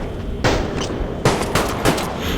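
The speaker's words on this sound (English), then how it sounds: "And I love the sounds they added for the Glock" Glock pistol shots in the VR game Blood Trail ring out as three or four sharp, loud single cracks spaced about half a second to a second apart, each with a brief ringing tail.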